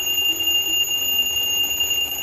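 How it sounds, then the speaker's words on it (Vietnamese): A Vietnamese analogue sweep-hand alarm clock rings continuously with a steady, loud, high-pitched electronic beeping tone held throughout, with no talking. "Cái nút này là báo thức ha."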